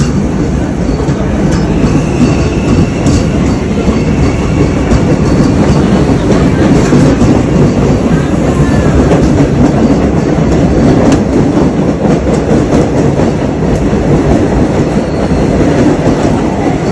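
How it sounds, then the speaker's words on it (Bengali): An AC local train pulls out of Chakdah station, a loud continuous rumble with clickety-clack wheel rhythm and brief squeals of wheels on rails, steady throughout and close by. "এবার ট্রেনটা চলে যাচ্ছে, ভালোই লাগলো।"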